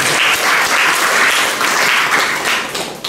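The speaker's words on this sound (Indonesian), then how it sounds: "Tepuk tangan dulu buat kita semua." Loud, dense applause from an audience at a send-off ceremony for a martial arts sports contingent, a steady wash of many hands clapping throughout with no speech.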